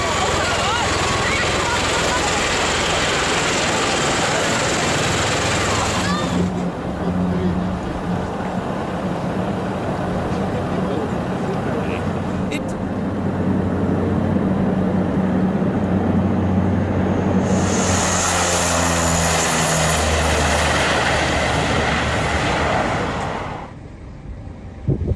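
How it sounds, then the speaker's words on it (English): A V-22 Osprey tiltrotor aircraft comes in to land with a loud, steady rotor and engine roar that dips midway, then swells again before cutting off abruptly. "A V-22 Osprey made a dramatic entrance"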